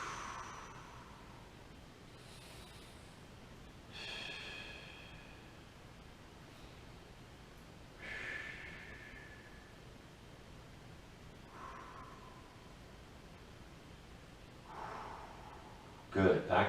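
Slow, audible breaths come at regular intervals of about four seconds while a person holds a seated yoga twist in a beginner's class. Each inhale and exhale is soft and close, with quiet hiss between them.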